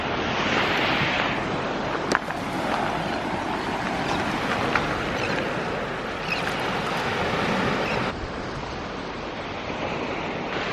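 Ocean surf at a beach on Anna Maria Island on the Gulf Coast, a steady broad wash of breaking waves with some wind rumble, continuous and fairly loud throughout with no voices.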